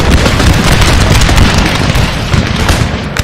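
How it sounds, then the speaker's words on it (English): Voltigeur infantry firing in the video game Napoleon Total War, a loud, dense crackle of musket shots and booming battle noise rolling on without pause. "So my Voltigeur should begin firing anytime now."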